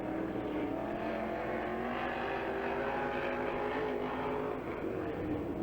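A Bullitt Camaro race car roars around Hagerstown Speedway during time trials, a continuous loud engine drone with shifting pitch as it laps the track.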